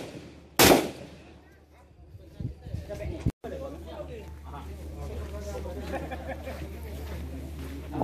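A single sharp shot from a long-barreled rifle cracks loudly near the start at a shooting range, followed by background chatter of people talking nearby.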